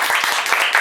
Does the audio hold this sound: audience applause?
yes